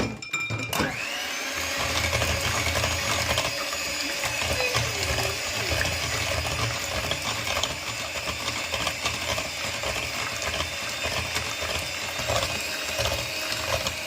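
A kitchen mixer grinder churns half a cup of sugar, a loud steady motor whine with grinding rattle that starts abruptly after a brief moment and runs continuously to the end, no talking.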